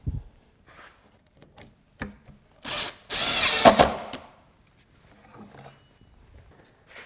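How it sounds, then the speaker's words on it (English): A short, loud whirring burst of a power drill driving screws into wood for about a second, with quiet clicks and pauses before and after. "I'll be able to drill and screw this fence down"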